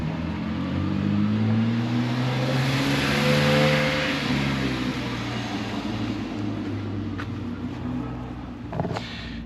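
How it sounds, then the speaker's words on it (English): A Honda Civic track car drives at Knockhill circuit, its engine rising and falling in pitch as it revs past nearby, loud at first and then fading, with a few clicks near the end. "here's this Civic that's done thousands of miles on Knockhill."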